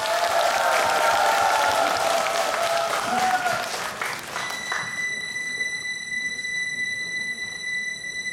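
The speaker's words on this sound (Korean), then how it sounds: "큰 박수 부탁드립니다" Studio audience applause for a trot singer on a Pohang MBC trot competition show, loud and dense at first, then thinning as the song's intro comes in.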